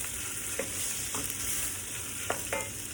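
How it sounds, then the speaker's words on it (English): Pork curry meat stirred in a hot pan, a steady bright sizzle of frying broken by a few scraping stirs of the utensil against the pan, close and clear with no talking. "Then I'm going to stir this around my meat"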